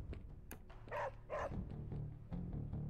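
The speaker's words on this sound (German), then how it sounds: "Ach, Hundi, da bist du ja." A dog in the video game Marvel Midnight Suns barks several times close up, with sharp woofs and yips over a low game backdrop.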